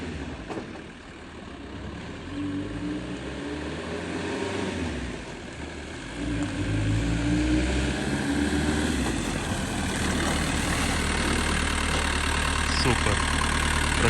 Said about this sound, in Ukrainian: Зараз ми вам покажемо, як він тормозить.